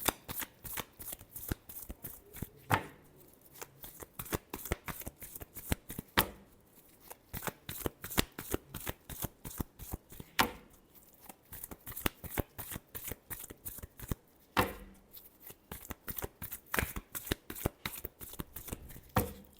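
Tarot cards being shuffled by hand in rapid, crisp riffling bursts with brief pauses between rounds, close and steady throughout with no voices.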